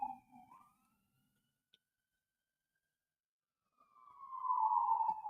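A siren wails in the distance, fading out, then after a quiet gap a louder siren tone swells up and holds steady.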